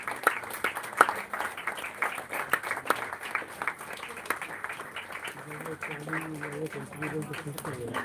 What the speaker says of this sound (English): keep the clap going